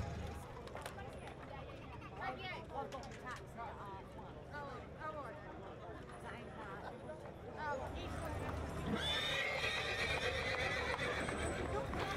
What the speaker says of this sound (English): the horses sold are led away and loaded up for taking to their new homes.